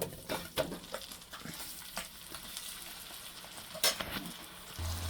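Onions frying in hot oil in a pan while the masala is cooked for a fish curry, giving a steady sizzle broken by short scraping stirs and a few sharp crackles.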